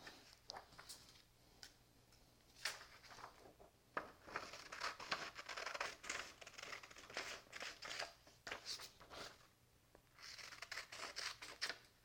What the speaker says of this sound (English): here's my rectangle shape. I'm going to cut this out now.